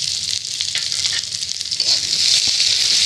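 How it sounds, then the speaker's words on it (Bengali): Crushed bori and chopped onion frying in oil, a steady loud sizzle with faint stirring scrapes, close and alone. "এগুলোকে অল্প করে ভেজে নেব"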